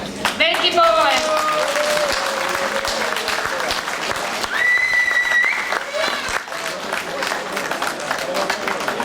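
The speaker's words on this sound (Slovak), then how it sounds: "Veľký potlesk." An outdoor crowd at a village sausage-making festival applauds the sausage makers, steady clapping with whistles and a few cheers running throughout, while a voice talks over parts of it.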